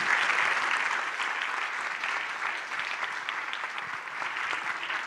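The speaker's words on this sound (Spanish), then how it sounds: "Así que muchas gracias y pues un aplauso." Audience applause at the close of a literary panel at a writers' festival in Mexico, a full, steady round of clapping from a sizable crowd that holds at even level throughout.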